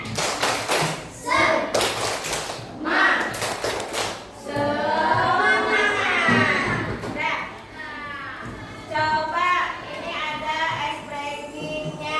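A group of children claps a quick rhythmic pattern in bursts, mixed with chanting voices and chatter in a classroom.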